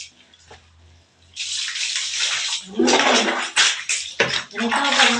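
Water running and splashing in a bathtub during a small child's bath, starting quietly then swelling into steady loud pouring and sloshing, with a few voices murmuring underneath.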